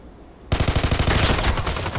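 Rapid automatic fire from an OTs-33 Pernach pistol in the shooter Contract Wars, a loud burst of evenly spaced shots starting abruptly after half a second of quiet and running steadily to the end.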